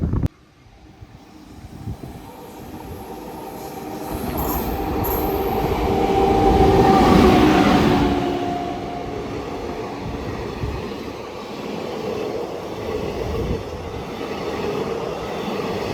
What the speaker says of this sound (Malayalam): ഇത് നമ്മുടെ ചെന്നൈ എഗ്മോർ മംഗളൂരു എക്സ്പ്രസ് ആട്ടോ, 16159.